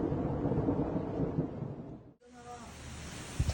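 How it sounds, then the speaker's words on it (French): Thunder from lightning striking the Mecca clock tower during a storm: a loud, sustained rumbling roar that cuts off abruptly, followed by quieter storm ambience with a faint tonal whine. "lorsque la foudre a frappé la plus grande tour d'horloge du monde pendant un orage"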